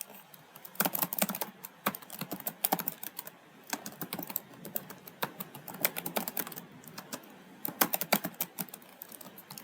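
Fast typing on a computer keyboard while writing Java code for an Android music player app, a dense, continuous patter of close key clicks with brief pauses and no speech.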